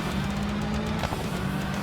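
A car engine in the Gravel racing game roars steadily, a loud continuous drone with a brief surge partway through.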